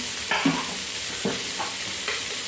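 Onion being sautéed in a pan, with three or four distinct scraping stirs of a spatula over a low, steady sizzle, close and fairly clear, without voices.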